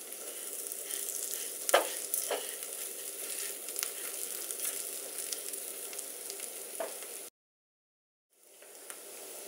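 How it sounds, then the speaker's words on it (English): Rice being stirred in a hot pan while making mushroom risotto, a steady close sizzle and fry with soft scraping strokes that runs alone, then drops to silence briefly before resuming. "Just gently stir this for about 3 minutes, or until you'll see the rice becomes opaque with just a little white dot in the center"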